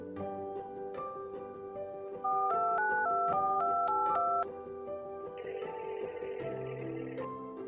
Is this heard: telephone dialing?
yes